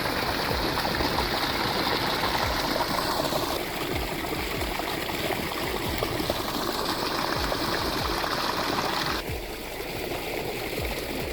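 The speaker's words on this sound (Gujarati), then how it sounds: "પાણીની સાથે સાથે દવા જાય છે ખેતરમાં" Irrigation water carrying pesticide pours steadily into a farm field, a continuous rushing flow that stays loud and close throughout with no voices.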